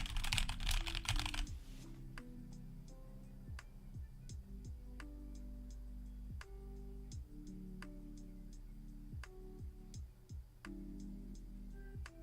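Typing on a computer keyboard with the microphone moved, a steady run of sharp key clicks after a brief burst of broadband noise at the start, fairly close and alone with no talk.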